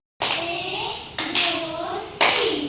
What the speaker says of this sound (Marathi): चला 3 टाळ्या वाजून दाखवा मला